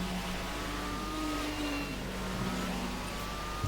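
A Kuruma car driving in GTA 3, its engine a steady mid-range drone with faint shifts in pitch, heard alone and fairly close throughout.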